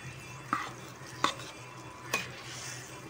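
Masala paste and tamarind water being stirred into a simmering Tamil kuzhambu, with a few soft scraping knocks of a spoon against the pot over a low steady background.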